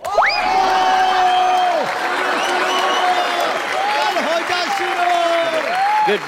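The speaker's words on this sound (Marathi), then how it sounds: "एकदा जोरदार टाळ्या" Loud, sustained audience applause fills a Marathi comedy stage show, steady clapping throughout with a host's voice and sliding tones layered over it.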